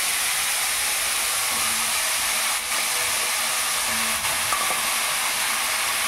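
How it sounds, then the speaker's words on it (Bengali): Onion leaves dropped into hot oil in a home kitchen, giving a loud, steady frying hiss and sizzle that runs unbroken throughout with only faint stirring. "এবার আমি তেলের উপরে পেঁয়াজ পাতাগুলো ছেড়ে দিলাম।"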